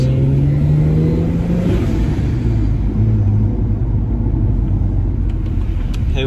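A BMW with an N54 engine and a new twin plate organic clutch drives along, its engine droning steadily with a rising tone early on, a continuous loud close rumble of road and cabin noise.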